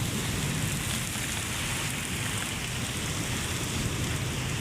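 Sudden rain falls steadily in a dense, even hiss of drops on surfaces, continuous and fairly soft with no voices.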